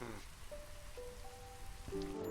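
Steady rain falls in the video game Against the Storm, a soft continuous patter beneath faint sustained tonal game sounds, quiet and unbroken throughout.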